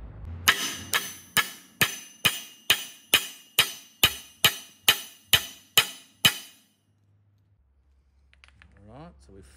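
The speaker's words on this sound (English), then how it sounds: "Put a ball peen hammer in here and hit it." A ball peen hammer strikes a metal tow eye twelve times at a steady, even rhythm, each a sharp, bright metallic clang, followed by near silence and faint shuffling.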